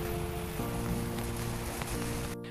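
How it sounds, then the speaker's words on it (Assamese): Steady rain falls outdoors, a dense, even hiss of drops on surfaces that stays constant throughout with no voices. "ইফালে চাওক বতৰ একদম বেয়া, বৰষুণ পৰি আছে"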